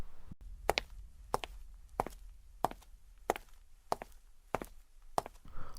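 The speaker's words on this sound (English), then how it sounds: "footsteps," Steady footsteps, about nine evenly spaced hard steps, close and crisp against a quiet background.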